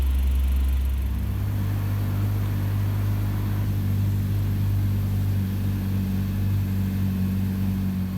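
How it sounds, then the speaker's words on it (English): Steady low exhaust hum from an idling Honda Civic 1.5 VTEC turbo, a continuous close rumble with no talk. "The exhaust in the car makes a nice hum"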